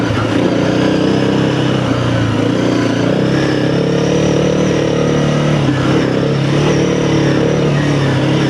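A Honda CRF300L dual-sport motorcycle ridden off road, its engine droning loud and steady throughout with slight rises and falls in revs, heard close.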